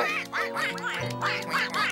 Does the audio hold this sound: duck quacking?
yes